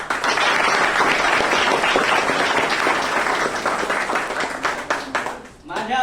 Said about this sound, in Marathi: तुम्ही सर्वांनी टाळ्या वाजून त्यांचं अभिनंदन करावं कौतुक करावं